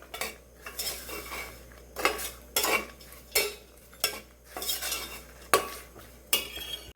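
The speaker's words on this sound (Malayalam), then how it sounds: "ഈ പൊടികളൊക്കെ ഒന്ന് ചൂടാവാനായിട്ട് ഒന്ന് ഇളക്കി കൊടുക്കാം" A spoon scrapes and clinks through spice powders heating in a pan, with irregular stirring strokes every second or so. Each stroke is a sharp metallic scrape over a faint low sizzle, close and fairly quiet.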